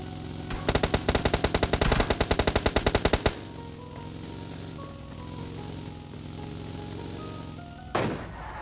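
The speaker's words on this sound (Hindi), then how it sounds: "दोनों बंदे मेरे ऊपर फायर करते हैं" A rapid automatic burst of gunfire in the video game PUBG Mobile Lite, loud and close for about three seconds, then a quieter in-game background and one more sharp shot near the end.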